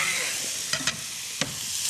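Seasoned meat fries in a pan, a continuous bright sizzle with a few short scraping stirs breaking through near the middle.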